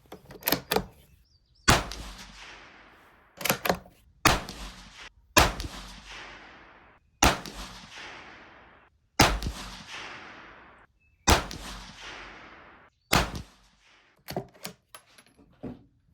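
A Savage B22 .22 Magnum rifle firing 30 grain CCI rounds at 50 yards, about a dozen sharp, loud cracks spaced a second or two apart, each with a short decaying echo, no talk between shots.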